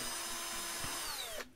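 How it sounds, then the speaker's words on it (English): A power drill whines steadily at close range, drilling through holes in a model airplane build, its pitch dipping slightly before it cuts off abruptly near the end. "I also drill through these holes."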